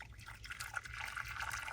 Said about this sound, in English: I'm gonna give this bowl a rinse